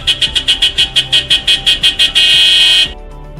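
A car horn beeps in a rapid train of about a dozen short, loud toots, then holds one sustained blast before cutting off.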